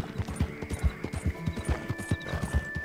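Horse hooves clip-clop steadily in Red Dead Redemption 2, a close, rhythmic run of rapid beats as the horse trots along, with a faint in-game tone sustained behind.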